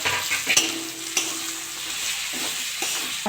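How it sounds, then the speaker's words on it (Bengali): Tomato and spice masala with cumin powder, Kashmiri chilli and salt sizzles steadily in a pan while a spoon scrapes and stirs it, with a few sharper clinks and scrapes over the continuous close frying hiss; no talking. "মশলাটা ভালো করে কষে নেবো"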